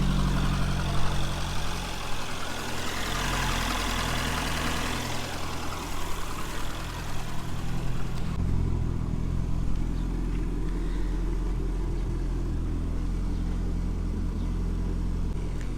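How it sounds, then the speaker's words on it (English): A Ford Escort RS Turbo idles through its exhaust with a steady, close, low rumble that holds an even tone the whole time, shifting only slightly partway through. "Everyone likes to hear a bit of exhaust noise."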